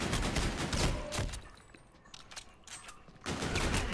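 Pistol fire in Call of Duty: Infinite Warfare zombies mode, bursts of rapid shots at the start and again near the end with a quieter gap between, mixed into busy game noise.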